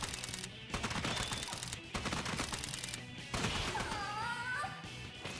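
Gunfire in the action game Devil Summoner: Raidou Remastered, bursts of rapid, loud shots in several clustered volleys separated by brief gaps, mixed with sharp game effects and ringing tones.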